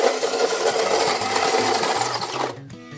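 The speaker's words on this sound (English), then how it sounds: "then close it and then press to grind your coffee" A coffee grinder runs steadily, grinding beans to a coarse setting for French press coffee with a dense, buzzing rasp, then stops abruptly near the end, leaving a few faint rattles.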